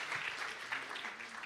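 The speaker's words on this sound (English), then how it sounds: "a big round of applause for Minister Ashwini Vaishnaw" Audience applause for a government minister at an Indian startup awards ceremony, a steady wash of clapping held at moderate level throughout with faint voices underneath.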